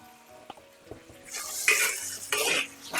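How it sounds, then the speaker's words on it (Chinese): Beef stir-fried in a pan with light soy sauce and a spoonful of red chili bean paste: a few utensil clacks against the wok, then a bright hissing sizzle swelling twice as ingredients hit the hot oil, close and alone. "少许的生抽， 煸炒出酱香味， 再加入1勺红油豆瓣酱，"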